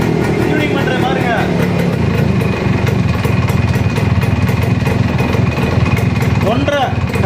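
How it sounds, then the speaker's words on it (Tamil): A TVS Max100 motorcycle engine, its carburetor just cleaned, runs steadily and loud throughout, with a revving surge near the end; someone talks over it in places. "வண்டி ஸ்டார்ட் ஆயிடுச்சு நண்பா."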